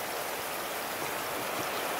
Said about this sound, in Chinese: 哦，下好大。